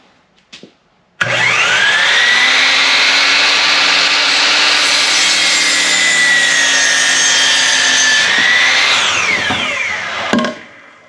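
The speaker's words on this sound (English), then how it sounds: "to get this a good square cut, I'm gonna go ahead and try to cut my miter saw" A miter saw spins up with a sharp whine and bites through a wooden post in one long continuous cut, loud and close, then winds down and stops with a clunk.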